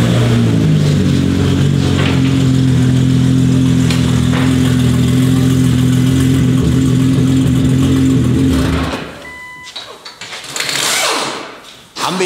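A car engine drones steadily nearby for several seconds, then cuts off, leaving quieter rustling and a brief burst of noise before a short drop to near silence.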